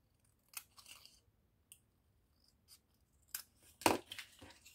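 Scissors snipping paper for a rosette craft, a few sparse, quiet cuts scattered through near silence, with one sharper, louder crunching snip toward the end.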